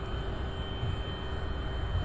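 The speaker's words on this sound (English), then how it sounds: "So this is UPS Flight 973 coming out of Portland, Oregon." A UPS Boeing 767-300 jet out of Portland, Oregon produces a steady, broad engine roar with a faint high whine, heard at a distance and unbroken throughout.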